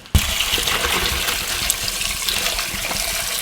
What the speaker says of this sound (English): we're just going to take our carrots, going to give these a quick rinse off.